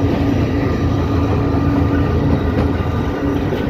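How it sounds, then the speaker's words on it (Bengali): A commuter train rolls through Chittagong Cantonment, giving a loud, continuous rumble with rattling wheels and carriages heard from close by and no talking. "খুব সুন্দর একটা রাস্তার মধ্যে দিয়ে ট্রেনটা যাচ্ছে"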